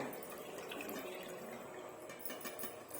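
Water draining off washed chicken, steady splashing and trickling running continuously, a close, wet rush without speech.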